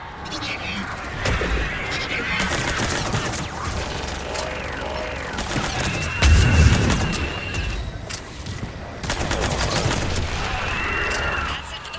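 Missile strikes and explosions in the video game Mass Effect 3 rumble through a dense battle mix, with a heavy low boom near the middle amid gunfire-like crackle and voices talking over the action.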